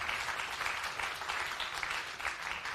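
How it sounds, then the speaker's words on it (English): Audience applauding a panel at the close of a conference session, a dense, even patter of clapping from a roomful of people, fairly close and continuous throughout. "Let us give our panel a round of applause"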